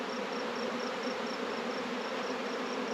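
A small honey bee swarm buzzes in a steady, dense drone, close and even throughout, with no voices.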